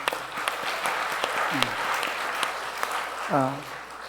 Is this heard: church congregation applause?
yes